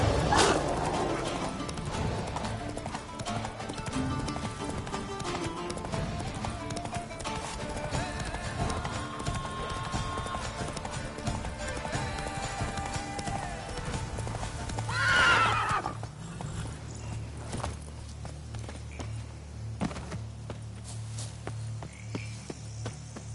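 A horse gallops with rapid clip-clopping hooves and lets out a neigh in The Witcher 3 video game, the hoofbeats loud and continuous before fading into quieter ambient sound.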